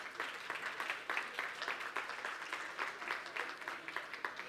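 A conference audience applauds to welcome an MIT economics professor to the podium: steady, dense clapping from many hands fills the hall, evenly sustained throughout without voices.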